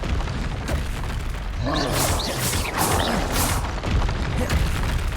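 A Confringo blast spell explodes in the video game Hogwarts Legacy, a loud, sustained crashing rumble that fills the whole moment, with game effects layered on top.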